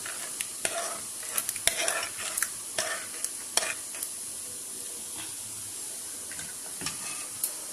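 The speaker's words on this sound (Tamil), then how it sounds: "நான் கருவேப்பிலை போட்டுக்கிறேன்" Curry leaves go into a hot, bubbling masiyal and fry with a soft, steady sizzle. Frequent light clinks and scrapes of stirring come through, fairly quiet, with no voices.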